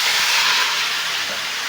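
Crab mixture being poured into hot oil seasoned with bay leaf and cumin in a wok, giving a loud, steady steamy hiss that fades slightly over a short stretch, with no talking.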